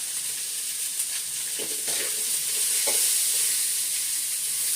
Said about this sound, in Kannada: ಈರುಳ್ಳಿ ಇವಾಗ ಚೆನ್ನಾಗಿ ಫ್ರೈ ಮಾಡಬೇಕು